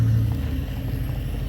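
A truck moving a shipping container into place gives a brief, steady, low engine rumble, close by and heard alone.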